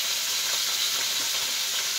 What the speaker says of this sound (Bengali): এবার মাছ গরম হয়েছে, আচ্ছা দিয়ে দেওয়া হলো।